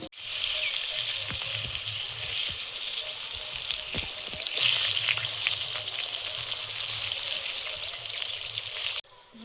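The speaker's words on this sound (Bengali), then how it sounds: "বেগুনগুলো ভেজে নেব।" Eggplant slices seasoned with salt and turmeric sizzle steadily in hot oil, a continuous close frying hiss with faint crackles and occasional stirring, no talk over it.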